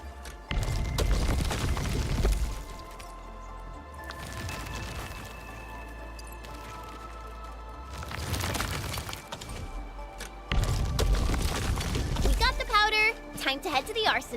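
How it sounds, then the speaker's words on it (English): Originium ore being shredded to powder by a processing machine in the video game Arknights Endfield, heard as heavy crunching, grinding bursts repeating over a steady mechanical hum, loud and close. "I say it's time to shred some Originium ore to powder."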